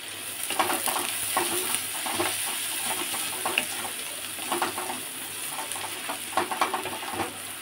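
Dried red chillies sizzle in hot oil in a pan while being stirred, a steady frying hiss broken by repeated scraping and clinking strokes throughout.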